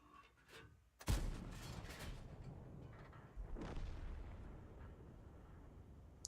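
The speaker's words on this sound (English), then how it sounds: "I'm firing high explosive rounds. There's another shot." A tank in World of Tanks fires a high-explosive round, a single sharp boom near the start, followed by a rolling rumble and a second softer blast.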